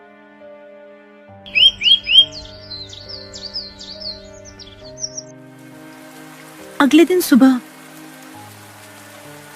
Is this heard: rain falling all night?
yes